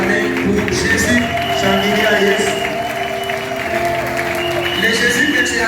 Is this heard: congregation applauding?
yes